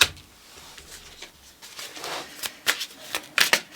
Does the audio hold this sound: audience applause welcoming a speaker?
no